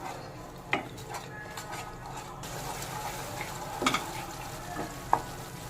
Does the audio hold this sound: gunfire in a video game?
no